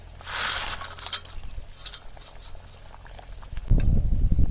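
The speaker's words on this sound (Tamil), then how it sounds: "குழம்பு நல்லா கொதி வருது பாருங்க." A pan of sundakkai vatha kuzhambu, a tamarind curry, bubbles on the stove with soft liquid burbling and popping near the mic, followed by a louder burst of sizzling clatter near the end.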